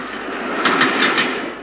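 Freight trains carrying evacuated factories eastward across Russia toward the Urals, a steady rumbling roll with rhythmic rail clatter and a few brighter clacks of wheels over joints, continuous and moderately close.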